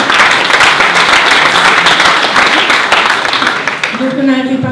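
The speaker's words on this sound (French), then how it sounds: "Je vous propose de les applaudir peut-être" Loud, close applause from a conference audience, dense steady clapping filling several seconds before a voice resumes speaking.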